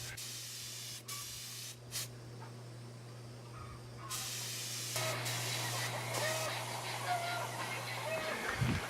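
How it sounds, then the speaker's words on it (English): A spray gun on turned-down air pressure sprays two-part epoxy polyfiber primer onto Piper Supercub inspection covers in a paint rack outdoors, a steady hiss in bursts over a low hum. "So I'll paint these with that 2-part epoxy polyfiber primer."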